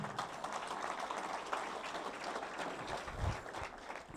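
A church congregation at a Quechua-language service in Ayacucho claps hands steadily in praise, a continuous and fairly soft wash of applause with no voices on top.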